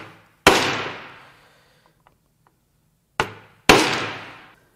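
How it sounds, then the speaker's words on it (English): Three sharp metallic strikes of a hammer on a center punch set against an Acura Integra B18B1 engine part during a teardown, each ringing briefly and decaying, the first alone and the last two close together, with faint taps in between. "take a center punch, and I'll go on a flat section here"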